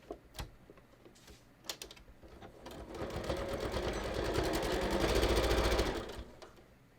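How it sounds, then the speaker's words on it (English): Sewing machine stitching a center front seam on a dress form cover: a few short taps, then a sustained mechanical whir that swells and runs for a few seconds before stopping, with no talk. "sew my center front seam too."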